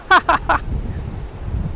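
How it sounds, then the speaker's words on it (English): Wind gusts buffet the microphone outdoors at Manchester Airport, a low, steady rumble with slight surges that carries on after a few short vocal bursts at the start. "the wind took the camera then"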